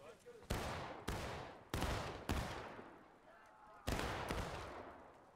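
Musket volley fire in the American Civil War game War of Rights, five heavy booming shots at uneven intervals, each rolling and echoing away, with voices faintly underneath.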